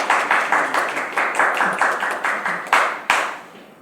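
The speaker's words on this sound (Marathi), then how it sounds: "टाळ्या" A small group clapping in a rhythmic burst of roughly a dozen sharp, close claps at a wedding announcement, fading out at the end.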